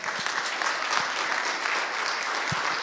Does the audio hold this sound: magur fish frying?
no